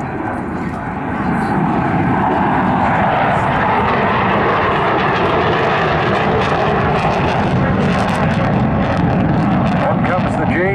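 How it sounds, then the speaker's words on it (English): Loud SAAB SK-37 Viggen jet at an airshow, afterburner roaring as a broad, continuous rumbling blast that swells after the first second and holds steady and near throughout, with a voice faintly audible underneath. "That's when you'll hear the burner come in and a bit more noise and impact before going into a few looping maneuvers"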